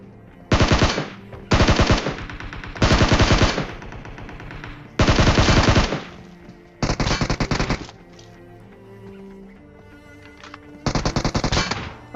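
Automatic gunfire in the PUBG Mobile battle royale game comes in several loud, rapid bursts separated by short pauses, with quieter in-game ambience between the volleys.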